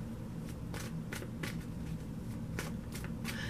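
Angel romance tarot cards being shuffled, a quick run of crisp riffling bursts repeating about every half second, close and soft, with no talk.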